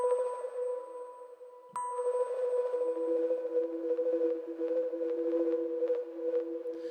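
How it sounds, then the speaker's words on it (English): A retro mallet synth patch from Omnisphere plays a steady sustained tone with soft repeated mallet-like strikes and a second voice a fifth up, clear and alone with no talking. "So you can definitely hear the mallet in it."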